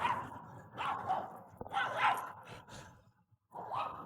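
A large husky dog gives several short barks and yips in quick bursts, close and fairly loud, with a brief pause before a final bark.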